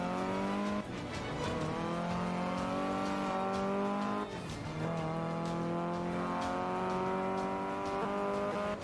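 A modern hot hatch car engine in the racing game Forza Motorsport 5, revving hard with rising pitch through the gears, dropping briefly at two shifts before climbing again, loud and continuous with no talk.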